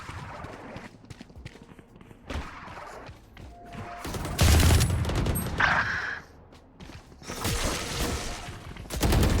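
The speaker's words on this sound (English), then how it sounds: "Swarm grenade out." A swarm grenade goes off in a Valorant match amid gunfire and footsteps, with a couple of loud, broad bursts standing out over quieter rapid clicks and steps.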